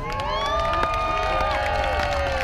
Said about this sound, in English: They're gonna scream. They're gonna yell. They're gonna cheer.